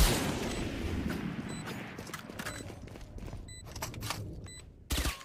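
Gunfire in the tactical shooter Valorant: a string of quiet, sharp shots and clicks over game ambience, ending in a louder burst near the close.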